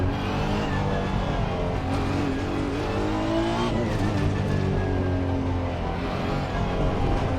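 Racing cars in a racing video game, engines droning loud and continuous with shifting pitch as they accelerate, with occasional tire squeals layered over the steady roar.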